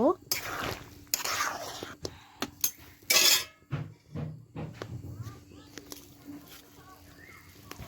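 Fish pieces go into a pot of boiling curry with cauliflower, with scattered clinks and clatters of a utensil against the pot, a louder splashy burst partway through, and a soft voice murmuring faintly in the background.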